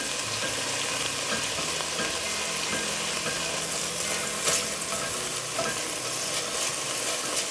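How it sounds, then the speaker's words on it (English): Beef pieces brown in a pan for Indonesian beef stew, making a dense, steady sizzle and crackle up close, with a brief louder spatter partway through. "Okay, let's brown the second batch."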